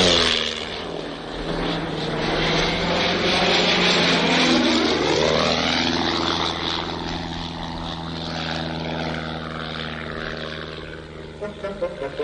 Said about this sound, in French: L'avion va atterrir tout seul.